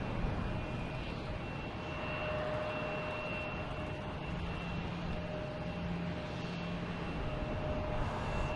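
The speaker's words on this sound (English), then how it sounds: "That's Delta, A330-900, heading to Amsterdam." A Delta Airbus A330-900 airliner at Boston Logan airport gives off a continuous, fairly distant engine roar that stays level throughout, with no voices.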